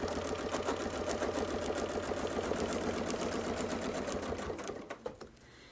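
A sewing machine stitches a quilting fan pattern with a mini Baptist fan template, its needle chattering in a steady, fast rhythm close by before slowing to a few final stitches and stopping.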